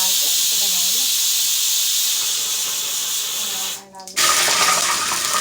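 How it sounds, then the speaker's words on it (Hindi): Water pours into a pot of tempered rice cooked with cumin, cloves and black pepper. A loud, steady hissing splash runs throughout, briefly cutting off near the end before resuming with a brighter gush. "यहाँ पानी डाल दिया मैंने।"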